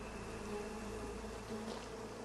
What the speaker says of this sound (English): Stinging pain consumes you as the bees attack you, and the honey bears too.